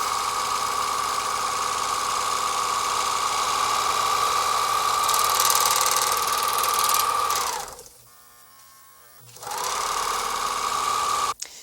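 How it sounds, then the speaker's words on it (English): A serger sewing machine stitches along the long edges of a sleeve, a steady loud whirring run that stops briefly for a pause, then starts up again. "The first step is to serge the long sides of the sleeve."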